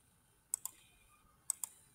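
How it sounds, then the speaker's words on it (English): Two pairs of quick, crisp key clicks on a computer keyboard, each pair a fraction of a second apart, close and fairly quiet against a hushed room. "now I can click the D on the keyboard or I can click the sketch dimension"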